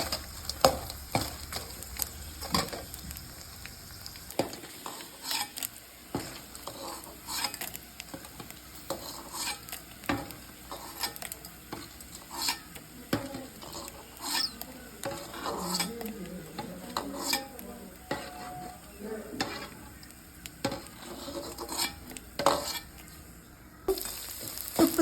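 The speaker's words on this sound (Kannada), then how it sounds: "ತುಪ್ಪದಲ್ಲಿ ಕರಿಬೇಕು, ತುಂಬ ಕ್ರಿಸ್ಪಿಯಾಗಿರಬೇಕು, ಆ ಥರ ಕರಿಬೇಕು." Edible gum (gond) frying in ghee while being stirred for gond ladoo, a quiet close sizzle broken by repeated ticks and scrapes of a spoon against the pan, with no talking.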